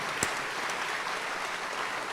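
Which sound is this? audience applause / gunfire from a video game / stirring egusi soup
audience applause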